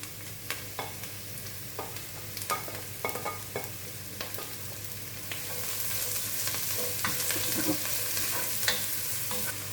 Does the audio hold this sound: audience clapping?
no